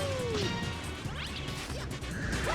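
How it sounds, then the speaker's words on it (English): Chaotic Super Mario Galaxy video game effects as Mario hits lava: crashing, sizzling bursts with whooshing swoops and squeaky sliding tones, dense and continuous at moderate volume with no talk. "I love Mario with his sound effects when he sits here and hits lava"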